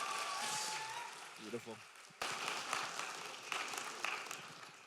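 An audience at an AVCon convention panel bursts into applause, a dense wash of clapping that rises after a short spoken remark and continues to the end.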